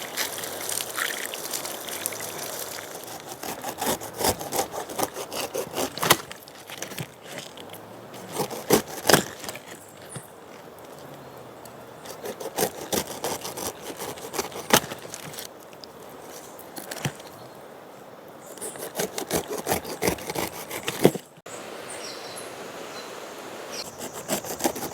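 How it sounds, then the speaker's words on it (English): Kitchen knife peeling a fresh pineapple for a Jamaican-style juice, heard close up as a run of crisp scraping cuts and short crunchy snaps in irregular bursts with brief pauses, no talking. "I'm getting the pineapple peel. I'm not a pro at peeling pineapples"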